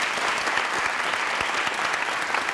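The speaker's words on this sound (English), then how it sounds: "let's give them a round of applause" Audience applause at a high school winter choir concert, a dense, steady wash of many hands clapping that fills the whole stretch at an even loudness with no talk over it.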